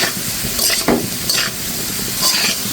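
Potatoes frying in a little oil until crisp and red, a loud, close, steady sizzle broken by several quick scraping stir strokes, with no talking.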